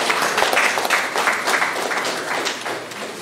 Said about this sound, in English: Please let all of us clap for each other.